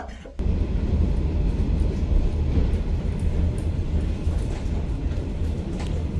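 Steady low rumble of a passenger train running on the Da Nang to Hanoi line in Vietnam, continuous rolling and rail noise close by, without talk.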